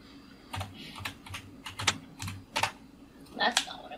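Keys clatter on a computer keyboard in uneven clusters of crisp taps, close and clear, while playing modded Stardew Valley, with a faint hint of voice underneath.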